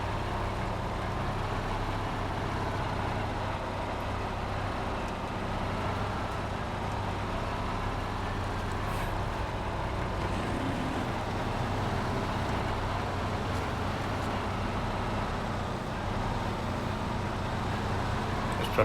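Military truck engine in the video game Snowrunner, crawling slowly over rocks on a trail: a steady, continuous low engine drone with road-vehicle rumble, unbroken and fairly loud throughout.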